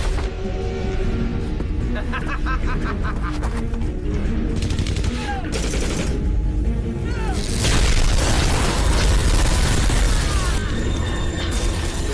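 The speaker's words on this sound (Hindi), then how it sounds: "लिटमैन पर जल्दी से गोली चलाओ।" Rapid bursts of gunfire from a dubbed action film and heavy booms crash through a loud, chaotic stretch, mixed with mechanical clanking and ratcheting, with voices shouting in between.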